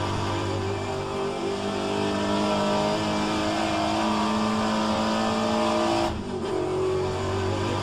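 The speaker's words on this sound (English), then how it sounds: "That was a nice upshift" Race car engine in a Trans-Am series racing sim with an H-pattern shifter, a loud sustained roar holding high revs, briefly dipping at an upshift before climbing again, with no voices over it.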